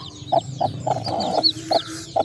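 A crossbreed of wild junglefowl and native chicken gives short, soft clucks at irregular intervals close by, while thin chick peeps chirp in the background.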